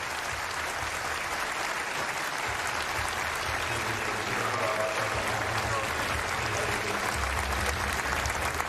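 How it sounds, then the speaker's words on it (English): At the XL Center, a basketball crowd at a Xavier versus UConn women's game gives a sustained, even round of applause for an injured player being helped off the court, with a low murmur underneath. "A nice hand from the XL Center crowd for the Xavier player as she's helped off"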